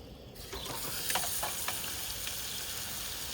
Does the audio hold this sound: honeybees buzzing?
no